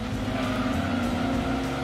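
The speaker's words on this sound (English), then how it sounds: "There's some very high-revving cars in this race." High-revving race car engines in Gran Turismo 2 scream steadily in a short, continuous burst, a thin, squealing, sustained drone with no talking.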